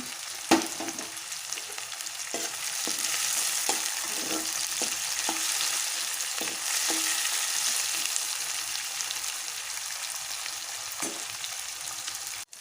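Green chili paste and coconut fry in a pan, giving a steady, close sizzling hiss that runs throughout, with occasional soft clicks of stirring over the top.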